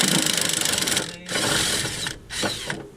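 Fast close ratcheting whir of a wrench loosening a suspension fork bolt while lowering a Honda CR-V, a buzzing run of clicks broken by short pauses and brief spurts, with no talk.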